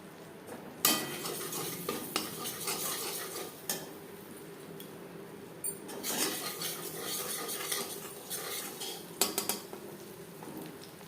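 Butter and ground spice paste sizzle in a kadai while being made into butter chicken, with a soft frying hiss under repeated scraping and clinks of a metal spoon against the pan.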